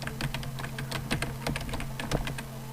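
Rapid, uneven clicking of keys on a computer keyboard, close and moderately loud, with a faint steady hum underneath.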